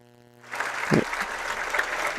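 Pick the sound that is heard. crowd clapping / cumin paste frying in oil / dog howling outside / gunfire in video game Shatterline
crowd clapping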